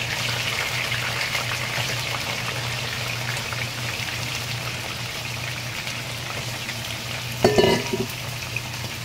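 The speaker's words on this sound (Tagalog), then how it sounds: "Sunod ko prito yung manok." Steady crackling sizzle of chicken frying in hot oil, continuous and close, with a brief clatter near the end.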